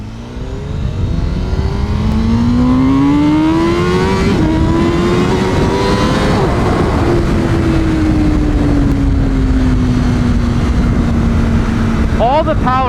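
A 2021 Honda Fireblade CBR1000RR-R SP sport motorcycle accelerates hard on a short straightaway, its loud, close engine climbing in pitch through the gears with brief dips at each shift and holding a high steady whine.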